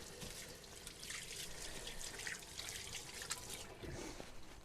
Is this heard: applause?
no